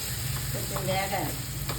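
Chili powder fries in a pan with a brief, steady sizzle under light stirring scrapes, close and moderately loud.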